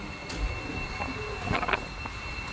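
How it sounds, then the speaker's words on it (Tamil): A train on the Tamil Nadu line through Tambaram, near the Pothigai and Silambu Express services, rumbles past in a steady low roar with brief wheel squeals and clatter partway through, no voices heard. "தாம்பரம் வழியாக போகிற ஒரு ட்ரெயின்."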